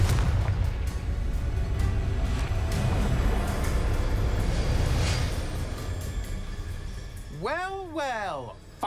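Confringo spell blast in the video game Hogwarts Legacy, a dense roaring burst of fiery rumble that rolls on for several seconds and fades, followed by a rising and falling whooshing tone.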